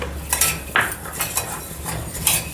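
Rice dry-roasting in a pan for homemade sambar masala is stirred briskly with a metal spoon, giving a series of sharp, close scrapes and rattles against the pan in an uneven rhythm.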